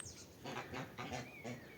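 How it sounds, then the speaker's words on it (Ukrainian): Starlings whistle from a treetop outdoors, a few short, faint whistling calls in rhythmic bursts, with one thin rising whistle near the end, set against quiet outdoor background. "десь там на вершечку сидять шпаки свистять."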